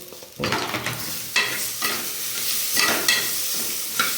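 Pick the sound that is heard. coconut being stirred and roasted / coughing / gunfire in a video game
coconut being stirred and roasted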